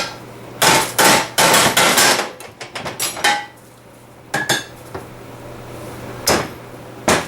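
Sharp metallic hammer blows ring out in quick bursts, a rapid cluster at first, then a few spaced strikes, loud and close, knocking a seal out of an NP-243 transfer case.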